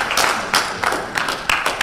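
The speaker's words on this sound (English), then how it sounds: "Can we give him a round of applause?" Applause from a Congressional Black Caucus audience for DioGuardi, loud and close, with several bursts of clapping building and fading over a couple of seconds.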